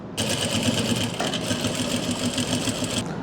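An electric sewing machine runs steadily as it stitches a palazzo pant, a fast even whirring hum starting abruptly, holding for about three seconds with a slight hitch midway, then stopping.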